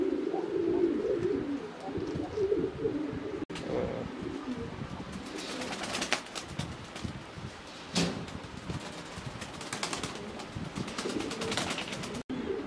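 Racer and Pakistani high-flyer pigeons coo in a low, rolling murmur inside a pigeon house, with a few sharp clicks and bursts of rustling movement around them.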